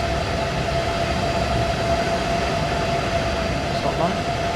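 Class 395 Southeastern high-speed train running in Train Sim World 4, a steady dense rumble and rushing roar with a faint constant tone, continuous throughout.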